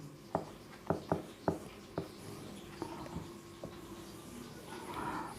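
Writing on a board during a Class 12 maths lecture on relations and functions: a quick series of sharp chalk taps and strokes, then fainter scratches trailing off, close and unaccompanied by talk.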